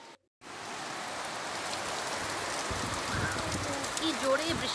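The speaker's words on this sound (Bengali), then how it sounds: "কি জোরে বৃষ্টি নেমেছে" Heavy rain pours in a dense, steady hiss after a brief silent gap at the start, and a faint voice comes in near the end.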